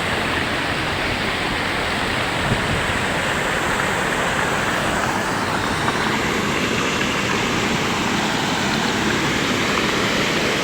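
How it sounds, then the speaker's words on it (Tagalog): Loud rushing water current pouring over a mini dam beneath a bridge, a dense, constant roar with no pauses, close and steady throughout. "Lakas ng tunog ng Agos."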